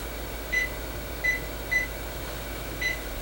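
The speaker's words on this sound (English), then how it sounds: "I'm gonna put my timer on for 2 minutes" A kitchen timer beeps in four short, evenly spaced chirps while blackberry jam boils for fruit leather, the tones clear over a low steady hum.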